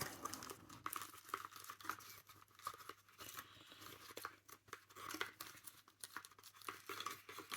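A gate installation kit for a KWA airsoft gun being unpacked: close, faint crinkling of plastic packaging and rustling, in irregular bursts with no talking.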